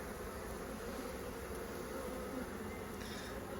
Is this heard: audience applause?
no